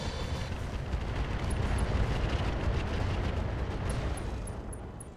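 A sustained, rumbling blast from an explosion in the RogueTech mech battle game fills the scene, loud and dense with crackling debris, then slowly tapering off, with no talk over it.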